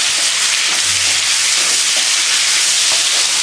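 Steady loud sizzling hiss of bottle gourd and tomato sautéing with salt in a pan, continuous and close with faint stirring scrapes underneath.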